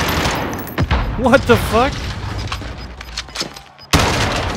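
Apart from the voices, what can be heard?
gunfire shooting at a dummy in Call of Duty: Modern Warfare video game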